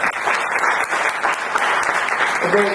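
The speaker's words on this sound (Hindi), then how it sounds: "कर दीजिए, ताली हो जाए।" Audience at a leadership kickoff session claps loudly and continuously, a dense burst of many hands close by, with a voice briefly coming through near the end.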